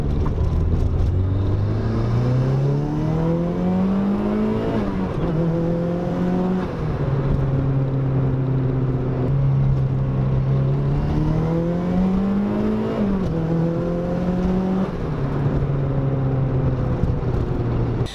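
Turbocharged car running Megasquirt engine management, revving hard through gears with both regular and flat shifts. Loud, close engine notes climb steadily, dip sharply at each change and climb again, across about two gear changes with no talking.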